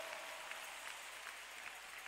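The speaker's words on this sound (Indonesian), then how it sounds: "A big round of applause." A congregation at a prayer gathering claps in steady, fairly faint applause that carries on evenly throughout, with no distinct voices over it.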